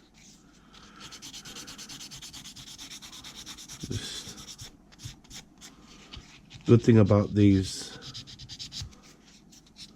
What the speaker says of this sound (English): sanding sponges are that because you can, they're pliable, you can bend them